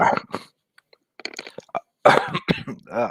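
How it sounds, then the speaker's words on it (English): Several harsh coughs come in bursts close to the mic, separated by short pauses, with a throaty rasp in the later ones. "Still getting over a cough."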